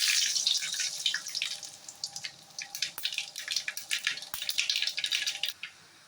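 Mustard seeds splutter and pop in hot oil in a pan, a dense crackle of sharp pops close by that gradually thins out toward the end.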